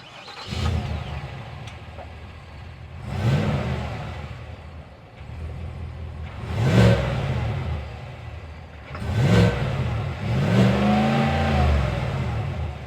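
A 2026 Cadillac Escalade Sport's naturally aspirated 6.2-liter V8 revs up in four or five separate bursts, each swelling loud and falling back to a rumbling idle.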